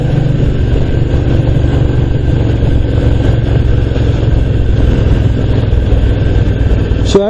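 A 1974 Ducati 750 GT motorcycle with bevel-gear drive, heard while riding: a steady, loud, low engine drone with continuous wind rush, unbroken for the whole stretch, ending in a brief rising whine.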